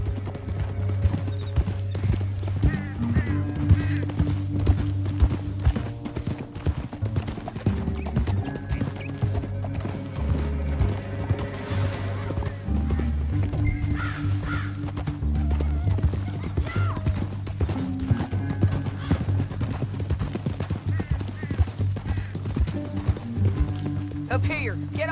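Horses trot in Red Dead Redemption 2, with steady clip-clop hoofbeats, occasional neighs and creaking tack. Music and spoken dialogue run over the hooves throughout.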